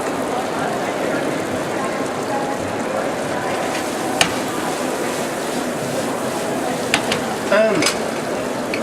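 Large tomato pieces frying in plenty of oil in a pan keep up a steady, dense sizzle throughout, with a few sharp clinks of a utensil near the end and a voice talking over it.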